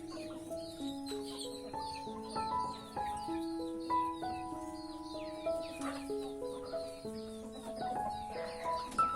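Hens being raised as breeding stock cluck in an open, airy coop, with overlapping short clucks and calls from several birds scattered throughout, fairly soft and close, with no talk over them.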